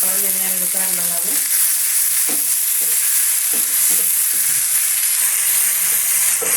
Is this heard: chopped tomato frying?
yes